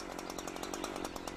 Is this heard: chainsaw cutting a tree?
yes